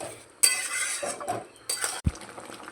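Raw mango pieces are stirred gently in a pot of sugar syrup, giving a few close metallic clinks and soft scrapes of a spoon against the pot over a short, quiet stretch.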